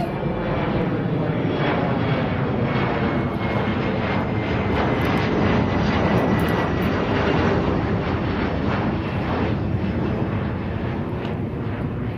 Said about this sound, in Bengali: ওই দেখ, প্লেন নামছে।